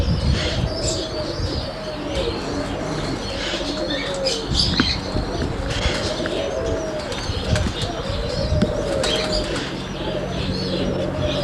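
Pensum flying roller pigeons in a loft coo in a rolling, repeated pattern, mixed with chirps, wing flutters and scuffling, fairly loud and close throughout.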